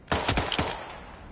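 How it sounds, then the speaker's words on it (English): Loud gunfire from the video game Hitman: three sharp, booming shots in quick succession, each trailing into a ringing echo, with no talking. "That gun is loud."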